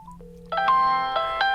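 A Nubia Z80 Ultra smartphone rings with an incoming call, a bright electronic ringtone with repeating chimed tones, loud and close, with no one talking.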